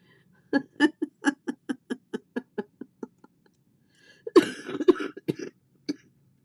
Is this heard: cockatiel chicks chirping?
no